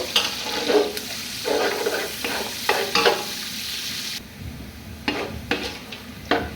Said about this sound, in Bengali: পেঁয়াজগুলো হচ্ছে হালকা ব্রাউন করে নেব